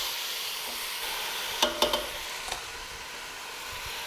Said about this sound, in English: We'll give that a stir.